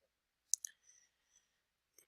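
A computer mouse clicks on Trash: a crisp, close click with a quick second tick, a few faint ticks after it, and another soft click near the end against near silence.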